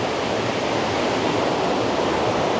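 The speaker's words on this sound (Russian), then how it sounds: "Мы уже внизу водопада" Waterfall at the base of a large two-tiered fall in Dalat, Vietnam, a steady loud broadband roar of rushing water with no breaks, heard close up and alone.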